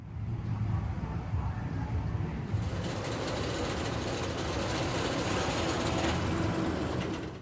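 ArieForce One, an intensely thrilling roller coaster at Fun Spot America in Atlanta, running with riders aboard: a steady, broad mechanical rumble with low engine-like drone throughout, building slightly louder and brighter partway through, heard from nearby without talk.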